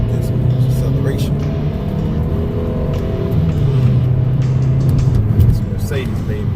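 A Mercedes-Benz CLA 250 Sport Edition accelerates from a light, its engine rumbling low and steady throughout with a slight swell near the end while people talk over it.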